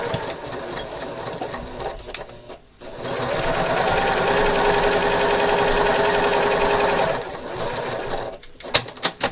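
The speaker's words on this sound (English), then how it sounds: "You're going to put your right sides together and sew a 1/4 inch seam." A sewing machine stitches a quarter-inch seam on a quilt block in a few runs: a short burst, a pause, a longer steady whirring stretch of about four seconds, then brief stop-start stitches, close and clear with no speech.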